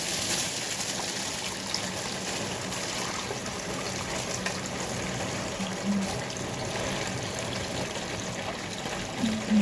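Water poured into a plastic bag, a continuous close gushing trickle that holds steady for the whole stretch with no voices.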